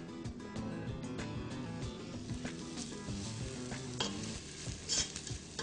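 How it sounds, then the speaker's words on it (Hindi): Garlic and ginger frying in hot olive oil in a pan, a steady close sizzle with frequent stirring scrapes and soft utensil knocks throughout. "लहसुन को आप थोड़ा सा फ्राई करें और फिर अदरक को पैन में डाल दें।"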